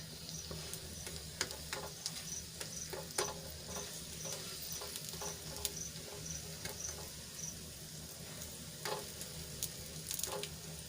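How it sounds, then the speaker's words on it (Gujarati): Leftover roti snack frying in a little oil on a pan until crispy, giving a steady low sizzle throughout with scattered small crackles and occasional soft scraping taps, with no talk. "આ રીતે બંને બાજુથી ફેરવતા ફેરવતા આપણે એને શેકી લઈશું અને નીચેની સાઈડ પણ આપણે ફરીથી થોડુંક તેલ એડ કરીશું"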